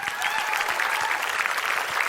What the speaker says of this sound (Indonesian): gue pengen tepuk tangan dulu buat teman-teman di sini sekalian